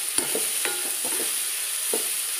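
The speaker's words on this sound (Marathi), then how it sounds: "कांदाही भाजून घेते।" Chopped onion frying in oil in a pan with green chillies, a steady soft sizzle broken by several light scraping strokes of a stirring spoon, close up and without voices.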